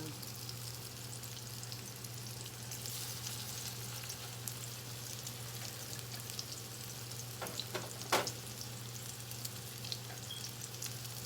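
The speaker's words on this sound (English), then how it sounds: "It doesn't take long to cook salmon patties at all." Salmon patties frying in a pan, a steady, moderately quiet sizzle over a low hum, with a few sharp spatters or scrapes near the end.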